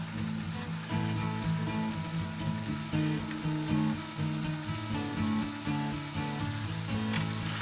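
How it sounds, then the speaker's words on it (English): Flour cooking in fat in a pan for Hungarian mushroom soup, giving a steady, continuous close sizzle with faint crackle throughout, no voices. "And then it's going to kind of sizzle a little bit, and that's okay."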